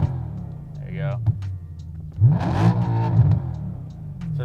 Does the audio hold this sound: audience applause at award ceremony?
no